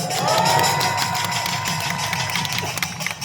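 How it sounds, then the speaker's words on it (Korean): A rally crowd applauds and cheers at a political lecture, a loud, continuous wash of clapping and voices with a thin tonal whine running through the first half. "박수 한번 쳐주세요"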